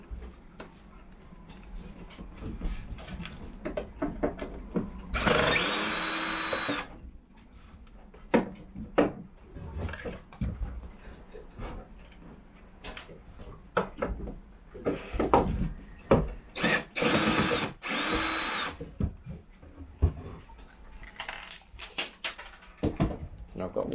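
Power drill backing out screws on a boat during cutless bearing work, a few short loud whirring bursts between clunks and knocks of handling, with someone talking intermittently.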